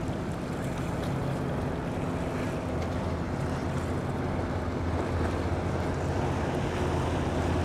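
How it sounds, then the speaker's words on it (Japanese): Two fishing boats motor out through Haulover Inlet, a continuous low engine rumble mixed with waves, splashing water and heavy wind buffeting the microphone, steady and fairly loud throughout. "2隻のフィッシングボートが出ます"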